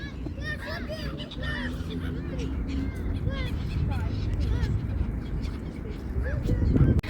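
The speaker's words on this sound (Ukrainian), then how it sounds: "Чайки напали, напали на качку." Seagulls fight a duck over food on an embankment in Dnipro, Ukraine: repeated harsh cries and squawks over steady outdoor noise, with people talking underneath.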